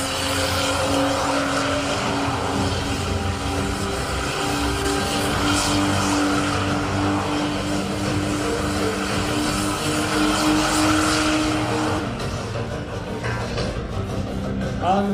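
A small drag racing car powered by a tiny 650 cc motorbike engine at a UK raceway, a loud continuous high-revving engine roar that holds steady before fading slightly near the end, with no talk.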